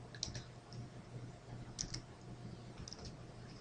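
Keys clatter on a computer keyboard as a spreadsheet formula is entered, a few quiet clustered clicks over a low hum, no voices.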